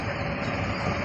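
Train running past, a steady close rumble of rolling wheels and carriages filling the short stretch at constant loudness with no voices.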